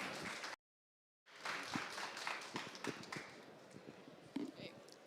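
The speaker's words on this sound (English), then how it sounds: "Come on, let's applaud her." An audience at a tech pitch-battle stage event claps for a presenter, with scattered dense clapping after a brief silence, steady and moderately loud with some murmur underneath.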